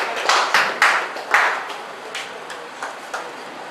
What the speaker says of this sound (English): A round of applause for Antonia Adedoja Ojujuri